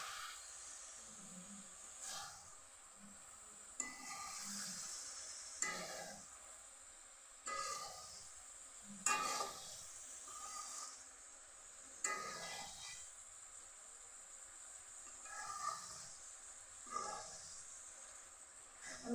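A shrimp and eggplant curry is stirred in a pan, giving rhythmic scraping strokes about every couple of seconds over a steady, soft sizzling hiss.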